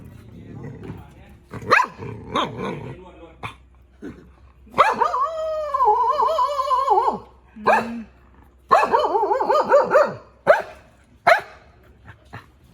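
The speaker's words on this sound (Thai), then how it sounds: "มันก็เห่าแห้งแท้" A dog barks in several sharp bursts with yips and low growls, near and fairly loud, while people talk around it.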